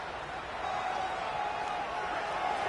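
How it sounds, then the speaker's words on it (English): A college football video game stadium crowd roars in a steady, dense wash of distant noise throughout, with no distinct individual voices. "This crowd trying to make life miserable for this offense."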